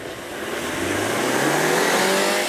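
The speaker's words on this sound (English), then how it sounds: "The EA888 is expert at making plenty of power at revs so low, the engine hardly sounds like it's working." Turbocharged EA888 four-cylinder engine of a 2023 Volkswagen Tiguan, loud and close, climbing steadily in pitch as it accelerates with no talk over it.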